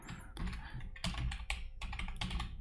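Dense, continuous computer-keyboard typing during a JavaScript coding lesson, keystrokes packed closely in an unbroken run, close and fairly loud with no talk.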